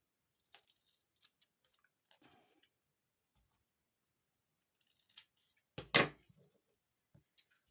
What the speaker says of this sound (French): On reprend les ciseaux.